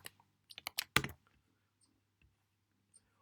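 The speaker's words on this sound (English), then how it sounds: "You may start typing." Typing on a computer keyboard: a quick burst of close, crisp key clicks in the first second, then a few isolated faint taps over a quiet low hum.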